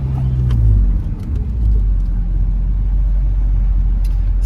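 A 2001 BMW M Roadster with the S54 engine accelerates close by, a loud, steady low engine rumble that swells briefly early on and holds firm to the end, with no talk over it.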